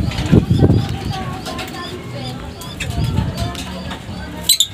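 Pigeons coo in low throaty bursts with quick wing flaps at a loft, under a background of voices and babble.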